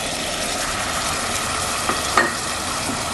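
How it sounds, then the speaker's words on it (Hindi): Beef korma with whisked yogurt added, frying and being stirred in a pot, a steady close hiss of sizzling with a couple of soft utensil knocks near the end. "अब इसके साथ हम भूनेंगे,"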